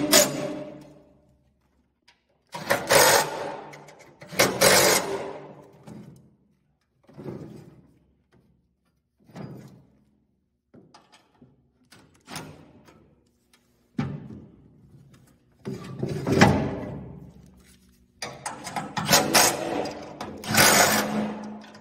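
A hand ratchet snugging down the bolts on a snowblower chute rotator: short bursts of rasping mechanical clicking, close and fairly loud, with quiet gaps between the strokes.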